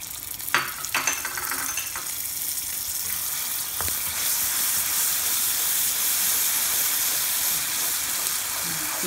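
Blue Band margarine melts in a pan for caramel popcorn with a close, steady sizzle and hiss that grows fuller, with a few early clinks of stirring and no talk.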